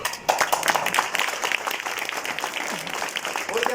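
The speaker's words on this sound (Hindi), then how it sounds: "ताली पीड़िए, शर्माइए नहीं, इस्लाम में हराम" An audience at a youth day motivational gathering breaks into applause, a dense run of clapping that starts abruptly and keeps going loud and steady, with some voices mixed in.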